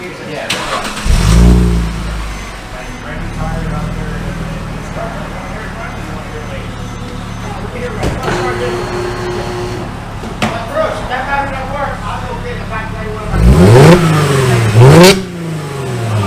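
A Mercedes-Benz engine fitted with a Magnaflow X-pipe and the factory muffler cranks over and settles into a steady idle, then gives a sharp rev near the end, close and loud, with someone talking over it.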